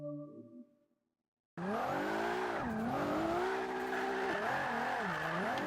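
In Forza Motorsport 5, after a brief engine note and a second of silence, a loud, continuous tire squeal wavers in pitch alongside a revving engine as a Nissan GT-R R35 drift build slides.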